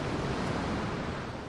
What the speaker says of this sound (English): And I hear the sea.